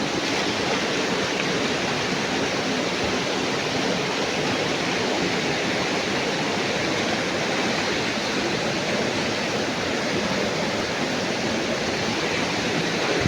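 A creek flowing over rocks, a dense, loud, steady rushing wash that stays constant throughout with no voices.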